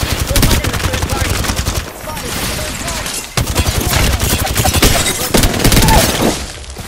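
Rapid bursts of automatic gunfire from an Apex Legends firefight, loud and close, with dense repeated shots filling most of the stretch, a brief lull near two seconds, then renewed sustained firing.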